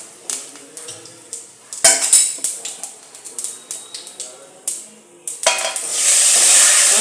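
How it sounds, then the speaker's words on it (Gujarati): Cumin, curry leaves and asafoetida are tempered in hot oil for Gujarati kadhi, with a string of clattering stirring knocks that gives way to a loud, steady sizzle near the end. "થોડી હિંગ નાખીને આપણે વઘાર કરી લઈશું।"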